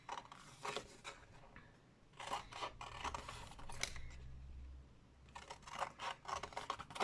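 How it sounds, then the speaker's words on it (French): Scissors snip through folded paper card in short, soft rasping cuts, several in a row with a pause between groups, quiet and close with no talking. "Moi, j'ai pris le ciseau."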